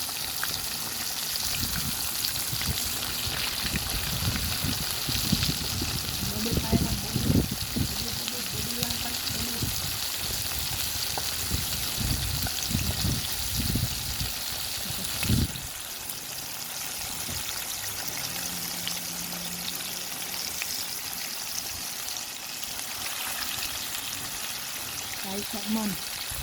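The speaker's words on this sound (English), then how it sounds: "while my chicken is frying" Chicken frying in hot oil on a stove at medium heat, Jamaican style, with a steady dense sizzle and crackle that stays close and continuous throughout, while someone talks intermittently over it.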